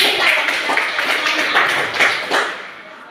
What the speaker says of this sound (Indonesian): Tepuk tangan dulu untuk kelompok Gen.